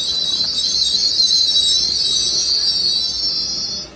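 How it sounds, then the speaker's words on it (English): A Northern train service pulls into Doncaster station on the East Coast Main Line, its wheels giving a sustained high squeal over a soft rolling rumble that fades as it slows. Nobody is talking. "Arriving in now is another Northern train service."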